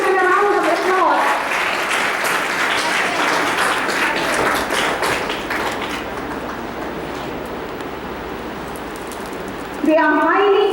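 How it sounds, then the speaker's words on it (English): Audience applause at a school investiture ceremony, a steady wash of many hands clapping that slowly thins out, with a speaker's voice at the start and again at the close. "I request everyone to give him a round of applause."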